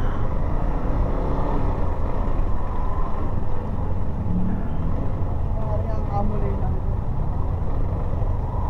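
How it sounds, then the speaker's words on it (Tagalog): Road traffic on a rainy day rolls past in a continuous loud rumble of passing cars and tyre hiss on a wet, potholed road, with wind buffeting the microphone throughout. "Traffic."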